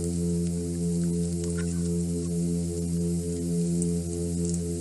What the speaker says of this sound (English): Midshipmen fish build themselves a territory under rocks, then begin to hum like this